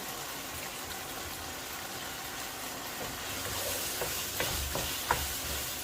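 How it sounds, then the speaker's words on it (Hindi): Thai eggplant and baby corn stir-fried in a pan for Thai red prawn curry, with a steady sizzle that grows slightly louder and is joined by a few scraping stirs of the spatula toward the end. "अभी इन सब्जियों को मैं तकरीबन 5 से 6 मिनट तक पकाऊंगा"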